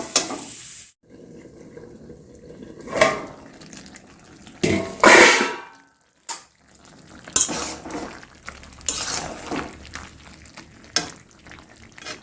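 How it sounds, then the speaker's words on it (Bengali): Water splashes into a pan of cooking vegetables amid clattering utensils and stirring, with loud bursts of pouring and metallic scraping scattered across the stretch, close and uneven. "সিদ্ধ হওয়ার জন্য একটু জল দিয়ে দেবো।"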